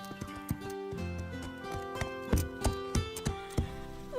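A cartoon horse's hooves clip-clop in a quick, even rhythm, sharp close knocks repeating over a music bed of sustained tones.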